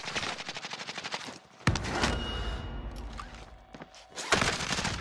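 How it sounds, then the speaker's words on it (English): Video game gunfire comes as rapid automatic bursts of shots, loud and close, broken by a short pause with a heavy thud and some rumbling movement, then another dense burst; no speech is heard. "Keep shooting at them boys, keep shooting at them."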